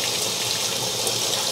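Hot water rushes steadily through a 1-inch irrigation polyethylene pipe, producing a continuous, even hiss of flowing water with no pauses or talk.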